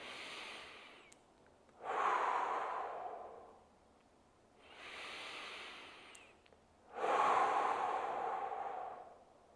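Deep, slow breaths during a stretching exercise for office workers: two long inhale-and-exhale cycles, each a rush of airy breath lasting a couple of seconds, close to the microphone with no talking.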